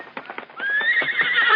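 A horse whinnies loudly and close, its high drawn-out neigh following a quick run of hoof clops, all without any talk.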